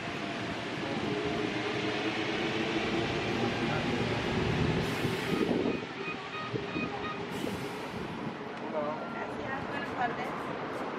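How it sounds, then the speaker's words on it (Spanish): A CAF NS 2007 Line 1 metro train in Santiago, Chile rumbles past nearby with brief metallic squeals, while voices murmur in the background. "justo vemos uno de los trenes de línea 1, CAF NS 2007"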